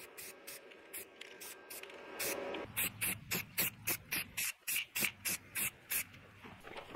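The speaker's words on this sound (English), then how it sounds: "To keep it from rusting, I'm spraying the welded areas with a self-etching primer." Self-etching primer sprays from an aerosol can onto the welded areas of a DR field and brush mower. A faint steady hiss comes first, then about a dozen short, evenly spaced spray bursts, close and fairly loud.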